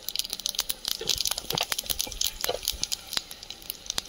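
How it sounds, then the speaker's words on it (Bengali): A dried red chilli and five-spice tempering hit hot oil, giving quick, irregular pops and crackles over a light hiss, close by and moderately loud, with no one talking. "একটা শুকনো লঙ্কা দেবো তেলে, 5 ফোড়ন"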